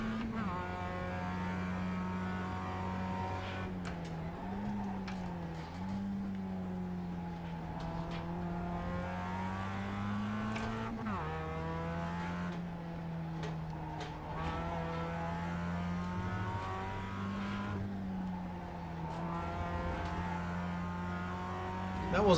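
A Mazda MX-5 Cup race car engine in the iRacing simulator at Okayama drones steadily and loudly, with pitch shifts as it eases off and accelerates again through gear changes, running without a break.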